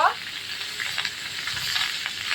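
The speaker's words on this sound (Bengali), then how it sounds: "এবার সবজিগুলো দিয়ে দিচ্ছে কড়াতে" Vegetables for a potato and pumpkin curry, tempered with black cumin, sizzling in a hot wok, a close, steady frying hiss with light stirring scrapes and no voices.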